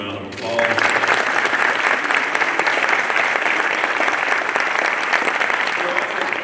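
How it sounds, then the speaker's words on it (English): A press-conference audience breaks into sustained applause for county commissioners, dense steady clapping that starts abruptly and holds loud and even to the end. "Please give them a round of applause"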